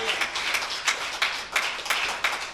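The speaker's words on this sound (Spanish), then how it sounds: "Dele un aplauso al Señor" Church congregation clapping during a Spanish-language sermon, a dense, steady patter of many hands with a few louder swells, fairly close and filling the room.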